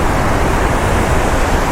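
A waterfall on a Connecticut river pours in a steady, loud, close roar of broadband rushing water, unbroken and without voices.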